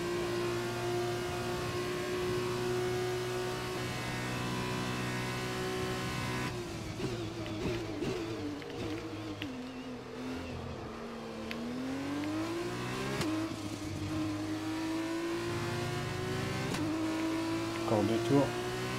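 Formula race car engine in the F1 2021 video game, a continuous high-pitched whine that climbs and drops through gear changes while revving along the track, with a voice talking over it.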